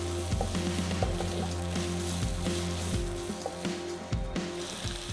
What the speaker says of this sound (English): Saute the ginger garlic paste for 2 minutes at medium flame.